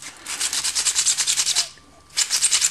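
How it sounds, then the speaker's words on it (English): Emery paper rubbed briskly back and forth over corroded brake pad pins from a V8 Vantage, a rapid run of rasping strokes, a short pause, then more close scraping. "They get a bit corroded, so that was the idea of the emery paper"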